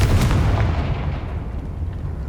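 A fiery blast spell in the Hogwarts Legacy video game erupts as a heavy booming explosion, loud and close at first, then rolling off into a decaying rumble over a couple of seconds.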